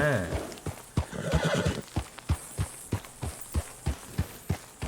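A horse whinnies at the start, then its hooves clip-clop in a steady, evenly spaced rhythm, close and clear.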